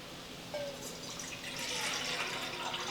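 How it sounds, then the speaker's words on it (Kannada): A glass of lukewarm water is poured into a pot while preparing chakli dough, producing a soft, continuous splashing pour that swells slightly toward the end, with no talking. "ಈಗ ಇದಕ್ಕೆ 1 ಗ್ಲಾಸ ನೀರು ಹಾಕ್ಕೋತೀನಿ ರೀ"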